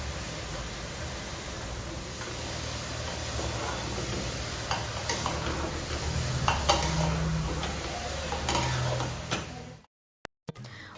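Vegetables being tempered in an iron kadhai give off a steady close sizzle and crackle, with a few stirring clinks partway through, before the sound cuts out abruptly near the end.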